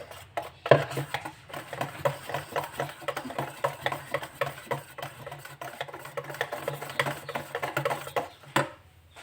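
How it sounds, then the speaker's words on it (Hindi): Dhokla batter is whisked in one direction in a bowl, a quick, steady run of light clinking and scraping strokes that carries on evenly with a few louder knocks. "आप कभी भी फेंटे तो एक तरफ से ही फेंटिएगा, जिगजैग करके फेंटिएगा नहीं बिल्कुल भी।"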